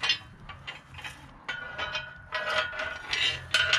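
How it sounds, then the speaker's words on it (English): Metal clinks and light rattling as a bolt is taken out of a folding engine hoist stand during assembly, several small clanks in an irregular rhythm, fairly close and quiet with no talk. "Remove that bolt."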